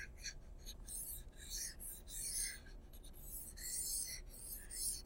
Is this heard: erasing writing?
yes